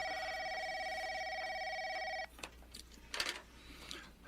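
A telephone rings with a steady electronic bell-like tone for about two seconds, then cuts off abruptly, leaving quiet room noise with a few brief clicks and rustles after the ring stops.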